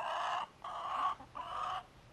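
A hen gives three drawn-out, squawking clucks in a row, close and fairly loud, with short pauses between them.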